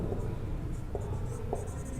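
Chalk or marker scratching across a board in an optics lesson, a steady run of short writing strokes close by, with no talk.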